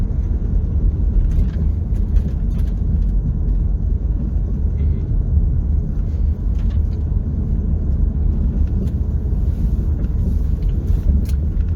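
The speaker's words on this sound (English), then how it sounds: "I did actually see some cars coming in on this road" Steady, loud traffic roar from cars on a road crossing a hiking trail in the woods, a continuous rumble with faint wind and no clear pauses.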